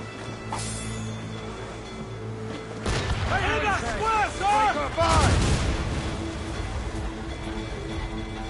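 Ship cannons firing in the naval game Assassin's Creed Rogue, a burst of heavy booms and crashing impacts rising over rumbling background noise midway through, with a character's voice talking around the shots.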